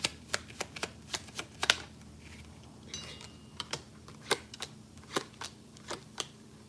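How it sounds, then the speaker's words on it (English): Tarot cards shuffled on a table make a run of crisp, quick clicking riffles, a dozen or so sharp ticks in an uneven rhythm, close and quiet, with no talking. "They said one more shuffle on the table."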